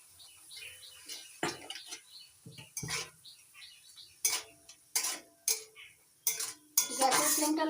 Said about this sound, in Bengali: গ্যাসের ফ্লেমটা লোতে রেখে 3-4 মিনিট মশলাটা ভালো করে কষে নিচ্ছি